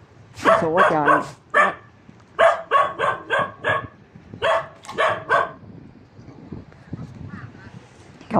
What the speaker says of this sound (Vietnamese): Không biết con chó hoang hay chó nhà ai mà nó leo lên trên phần mộ nó sủa quá trời luôn.